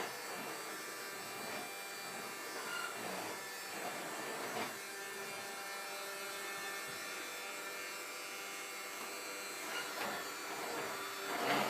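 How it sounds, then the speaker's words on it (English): A household vacuum cleaner runs steadily indoors, giving a continuous buzzing whine with small shifts as it is pushed about, with no talk over it. "are you vacuuming?"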